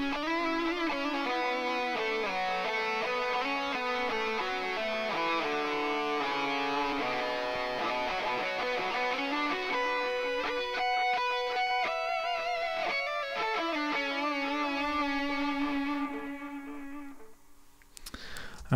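Sustained lead electric guitar tone from the mix of a song, soaked in generous delay, a flowing melodic line with echoes trailing under it, steady and loud before fading out near the end.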